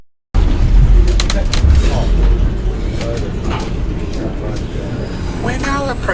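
The Overland passenger train running along the line as it approaches Belair station near Adelaide, a loud continuous rumble and rattle heard from aboard, with a voice talking faintly over it near the end.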